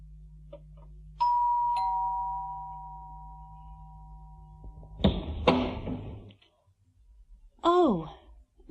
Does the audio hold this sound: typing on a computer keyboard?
no